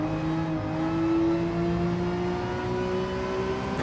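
A 1998 Porsche Boxster base model with the 2.5 engine in Gran Turismo 7, a steady, close engine drone with a pitch that rises slowly as it pulls, loud and unbroken throughout.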